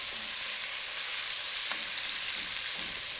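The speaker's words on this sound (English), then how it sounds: "We're going to dump these in. Quick stir." Four onions dumped into a pan of oil and butter over low heat sizzle in a steady, bright hiss, with a few quiet stirring scrapes close by and no talk.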